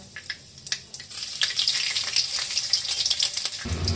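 Panch phoron and a slit green chili sizzle in hot oil, a steady close crackle and hiss with faint clinks, for making a sweet-shop style potato curry.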